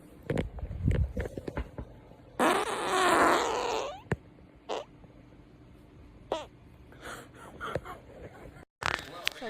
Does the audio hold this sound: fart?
yes